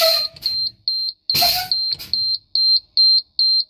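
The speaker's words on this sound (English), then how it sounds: "Both that buzzer and that warning light must come on at or before the pressure drops down to 55 psi." A truck's low air pressure warning buzzer sounds as the air brake pressure drops, giving a series of sharp, evenly spaced electronic beeps, close and loud, with a couple of brief louder bursts among them.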